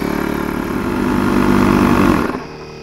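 An Outdoor Master Shark 3 electric pump runs loud and close with a steady buzzing motor drone, rising slightly in pitch before winding down and stopping near the end while inflating the Deschutes inflatable kayak.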